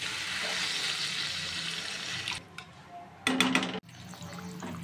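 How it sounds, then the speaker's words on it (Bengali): Water poured into a pan of sizzling potatoes and pointed gourd during a fish curry: a steady frying hiss gives way to quieter bubbling, then a short, louder splash of liquid hitting the hot pan. "তো আমি এখন পরিমাণ মতো জল ঢেলে দিচ্ছি"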